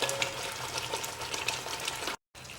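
Mutton frying in a pan with onions and garam masala for a historical mutton curry, a steady close sizzle and crackle with faint stirring, cutting out briefly near the end before resuming.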